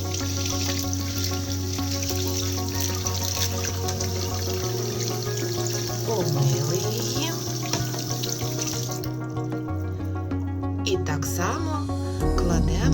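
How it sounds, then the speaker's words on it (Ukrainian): A hairbrush is rinsed under a running tap into a sink, giving a steady close water stream throughout with the pitch and splash shifting as the brush moves in the flow. "Ось, миємо під проточною водою."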